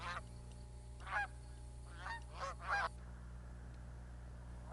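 Canada geese give several loud, nasal honks in short bursts against a steady low background hum, then fall quiet.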